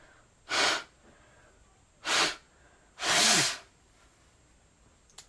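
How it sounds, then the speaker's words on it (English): Three loud, separate bursts of a person blowing their nose at close range, short blasts followed by a longer one, with quiet pauses between. "Sorry guys, you have to hear me blow my nose."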